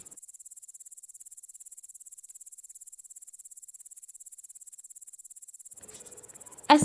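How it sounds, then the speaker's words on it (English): A grasshopper chirps in a freshly cut meadow edged by thick bushes, a fast, evenly pulsing high buzz that runs steadily on its own before a brief rustle at the end. "A voice which runs from thick bushes and around the freshly cut meadows is that of the grasshopper."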